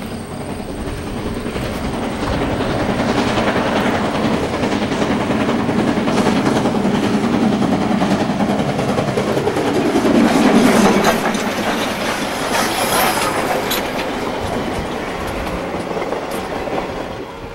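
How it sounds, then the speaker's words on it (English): A Soo Line steam doubleheader led by locomotive 1003 rolls past west of Boyceville, Wisconsin, with a steady loud rumble, wheel clatter and rail clicks that swell as it passes close by. "we see a Soo Line doubleheader with a 10:03 in the lead"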